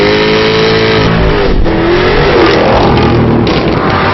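A Jaguar sports car engine revs loudly and up close, a continuous roaring snarl that climbs and falls in pitch with a brief dip partway through, alone without voices.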